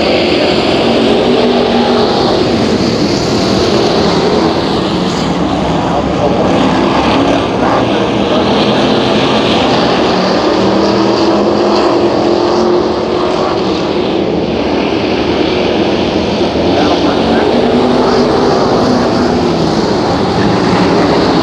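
Race cars roar around Hattiesburg Speedway under green flag racing, a dense, continuous engine drone from a distance with crowd and track ambience, steady and loud throughout.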